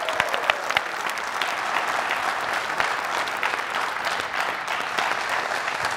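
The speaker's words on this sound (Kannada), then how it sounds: "ಒಂದು ಚಪ್ಪಾಳೆ ದಯವಿಟ್ಟು." A studio audience on the Kannada quiz show Kannadada Kotyadhipati bursts into dense, sustained applause, a steady roar of many hands clapping throughout, loud and close with no pauses.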